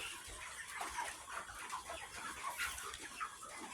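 Broiler chickens on a poultry farm, a dense flock clucking and murmuring continuously, close and fairly faint, with no talk.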